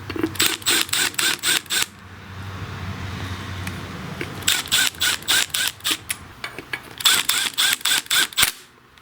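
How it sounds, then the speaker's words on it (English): An impact driver slowly starts a bolt on the cover of a Craftsman lawn tractor, giving several close bursts of rapid rattling hammer blows separated by short pauses. "I'll just start the bolt with the impact slowly here."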